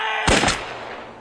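A quick burst of two or three close gunshots in a TV war drama about the resistance against Japan, loud and sharp, then fading into a short ringing tail with no speech.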